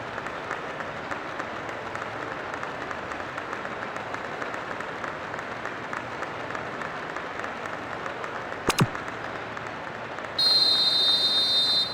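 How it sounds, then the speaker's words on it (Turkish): A football stadium crowd roars in sustained celebration after an equalizing goal in a Turkish Süper Lig match between Antalyaspor and Beşiktaş, a dense wash of cheering that swells louder near the end. "Muhteşem bir coşku var şu an statta sevgili futbol severler."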